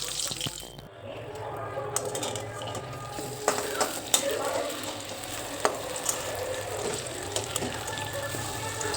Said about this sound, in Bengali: তেলটা এবার ভালো করে গরম হয়ে গেলে বেগুনগুলোকে ভাজার জন্য দিয়ে দেব।